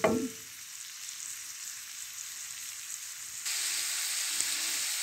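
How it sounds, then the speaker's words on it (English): Onions fry in oil in a pan, hissing and sizzling steadily after a brief clatter at the start, with the sizzle growing louder partway through. "you've got your onions inside, and so you cook them until they kind of get brownish."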